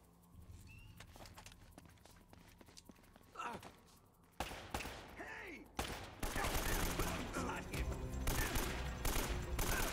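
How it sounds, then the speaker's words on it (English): Video game gunfire in Uncharted: Drake's Fortune on PS4, with bursts of shots building to a dense, sustained volley over the second half, loud and close with mixed background game sounds. "They're shooting at you too, you know."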